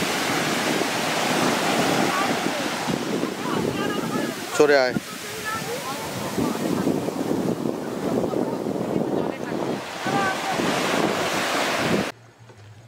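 Sea waves wash steadily onto the sandy Bali Harachandi beach near Puri, Odisha, a continuous close roar mixed with heavy wind buffeting, with a brief shout from someone nearby.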